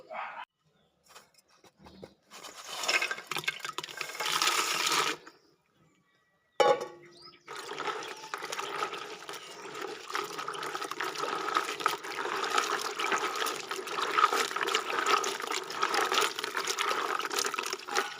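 Raw peanuts are washed by hand in a container of water, giving sloshing and trickling splashes that start and stop in bursts before settling into a steady wet churning. There is no talk.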